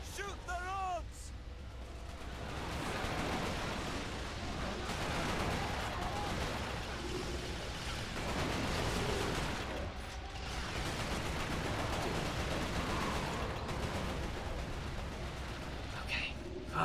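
Gunfire rattles almost continuously in the shooter game Resistance: Fall of Man, dense bursts of shots and mechanical clatter filling the whole stretch at a steady loud level.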